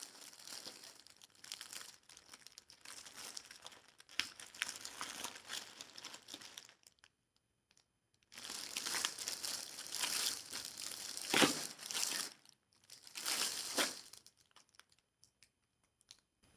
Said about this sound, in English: The crinkly sounds are so loud on these videos.